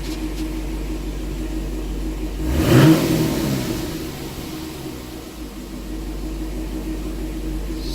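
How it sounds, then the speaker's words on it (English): A 2013 Chevrolet Camaro SS 1LE fires up from a cold start, a quick surge of revs that swells loudly and then settles into a steady, rumbling idle. "so there's the engine compartment cold start video for this 2013 Camaro SS1LE car"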